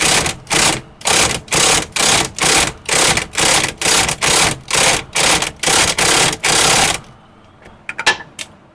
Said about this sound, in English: I still got my impact wrench on the crankshaft bolt, and all I'm doing is operating it forward and backwards.